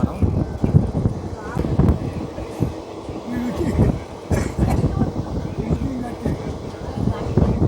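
The Simhadri Express pulls away from Samalkot junction, its steady rumble and rattling carriages heard from on board, with wind buffeting the microphone and voices talking over it.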